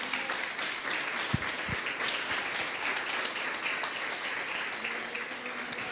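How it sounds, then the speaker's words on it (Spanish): Congregation in an evangelical church in Barcelona applauding, a broad, steady wash of many hands clapping at moderate volume, with a couple of brief low thumps partway through. "Dale un fuerte aplauso al Padre."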